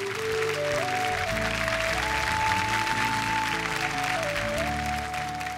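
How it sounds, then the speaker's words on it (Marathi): An audience gives steady, sustained applause for Hetal just before she recites a Marathi poem, with a faint tone gliding underneath the clapping the whole time. "जोरदार हेतलसाठी टाळ्या झाल्या पाहिजेत."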